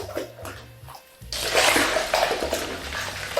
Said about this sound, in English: I'm gonna go ahead and dip it into my cool water, and I'm gonna bring it in and out of the water